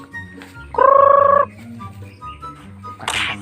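A chicken's loud, sustained two-toned cluck stands out for under a second against a low background murmur, with a rustling burst near the end.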